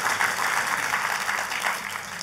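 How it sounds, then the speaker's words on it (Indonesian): A church congregation applauds together, a dense, steady patter of many hands clapping at moderate volume for a couple of seconds, with no speech over it. "Yang percaya katakan amin dan tepuk tangannya yang paling meriah buat Tuhan kita."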